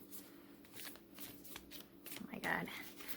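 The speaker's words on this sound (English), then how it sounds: "Also, you can shuffle them like this." A deck of tarot cards is shuffled by hand close up, with soft riffling bursts and a louder flurry near the end, while a voice is faintly present in the background.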